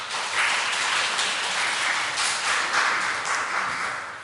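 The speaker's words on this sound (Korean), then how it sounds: "우리 한나 여성교회에게 큰 격려의 박수" A church congregation applauds a women's choir after a Sunday worship song, a steady wash of many hands clapping at full volume for the whole stretch.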